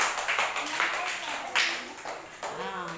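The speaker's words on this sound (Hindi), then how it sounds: "ताली बजाओ।" Classroom children clap in a few short, scattered bursts, mixed with a teacher's and pupils' voices talking over them.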